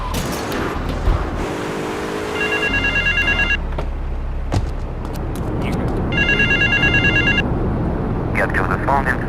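A payphone ringing in Grand Theft Auto III, two bursts of electronic trilling rings separated by a pause, with a voice talking and city traffic rumbling underneath.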